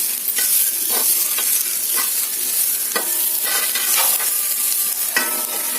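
Radish fry sizzles steadily in a pan on the stove while a spoon stirs it with repeated scraping strokes, loud and close throughout.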